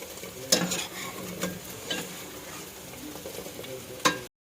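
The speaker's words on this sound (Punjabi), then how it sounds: "ਤੜਕਾ ਲਗਾ ਦਈਏ ਹੁਣ ਇਹਨੂੰ" Tempering for yellow moong dal sizzling in a pan, a steady close frying hiss with a few sharp clinks of a ladle against the vessel, no voices.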